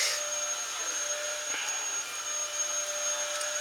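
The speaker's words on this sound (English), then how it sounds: "Sorry about the vacuum noise again." Hoover vacuum cleaner running in the background of a room, a steady whining motor drone with a high tonal whistle that holds unchanged for the whole stretch, fairly faint and without talk.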